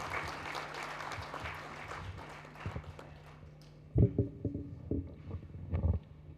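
Audience clapping together at a Hindi memorial lecture event as a guest is invited onto the dais, a faint, scattered patter of applause in a hall that swells briefly into a few louder bursts near the end.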